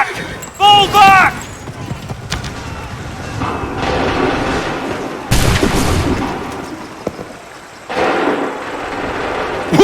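Musket volleys and cannon blasts ring out on an Assassin's Creed III battlefield, a few sharp loud bursts near the start, then another heavy blast midway and again near the end, with shouted voices over the fighting.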